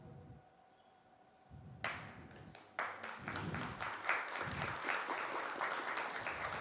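A conference audience at a sustainable-transport discussion breaks into applause after a presentation; after a quiet pause, a few scattered claps build quickly into steady, moderately loud clapping from the whole room.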